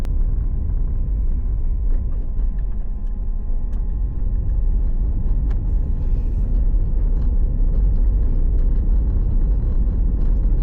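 A car driving onto a highway in New Zealand, a continuous loud low rumble of engine and road noise from inside the cabin, steady for the whole stretch with no speech.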